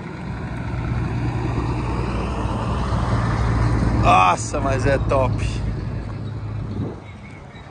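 A Mercedes Atego truck engine idles with a steady low hum beneath excited conversation, while a brief burst of higher sound rises around the middle.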